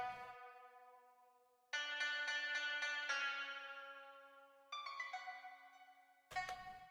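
Plucked pipa melody from a Jade Ethnic Orchestra sample, bright twangy notes ringing out alone in a sparse phrase, with a few sharp struck notes and long decaying tails between them.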